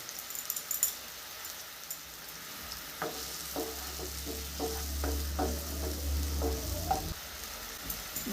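Tomatoes frying in a pan while a paneer (chhana) dish cooks: a faint, steady sizzle with a run of soft spoon scrapes and taps in the middle, quiet and close, no talking.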